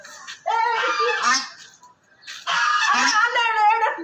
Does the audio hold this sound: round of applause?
no